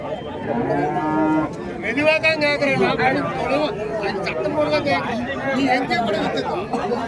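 Bullocks lowing at the Uthangarai cattle market, several drawn-out moos rising close by over a steady babble of crowd chatter and talking voices.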